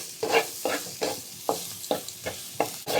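Green chilies and bird's eye chilies sauté in a pan for chicken-feet adobo, giving a steady sizzle broken by about seven rhythmic scraping stir strokes, close and fairly loud, with no talking.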